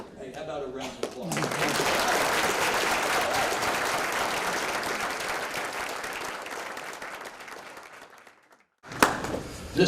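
Sustained applause from an audience at an awards ceremony for educators, starting after a brief spoken moment, swelling into a dense steady roar of clapping for several seconds, fading out, then a short loud burst at the end.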